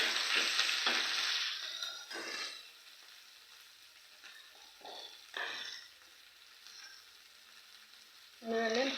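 Sliced onions and green chillies frying in a pan, with a bright sizzle that swells and fades in bursts as they are stirred, near and moderately loud, with quieter gaps between.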